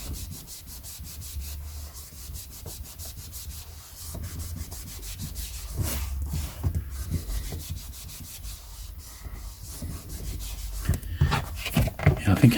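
Close, steady rubbing and scrubbing on an old vintage handbook being cleaned, a dry brushy friction that continues throughout and grows a little louder and busier toward the end.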